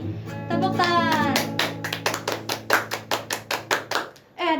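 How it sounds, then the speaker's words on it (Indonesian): Children clap hands together in a steady, rhythmic run of about a dozen sharp claps, led in by singing and speech at a kids' worship gathering, close and fairly loud. "Tepuk tangan."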